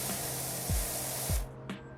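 A pressure washer in the Power Wash Simulator 2 video game sprays water with a steady, loud hiss, broken by a couple of short shifts in tone before the spray cuts out near the end.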